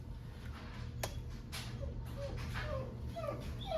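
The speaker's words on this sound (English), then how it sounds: "my puppy's starting to whine a bit" A puppy whines in a few short, high, rising cries that cluster toward the end, fairly faint over a steady indoor background hum.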